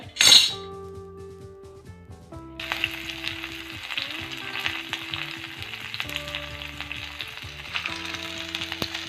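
Small shallots, dried chillies, coriander and curry leaves frying in coconut oil in a cheenachatti on the stove, loud crackling sizzle after a sharp clink, with occasional utensil knocks and stirring throughout.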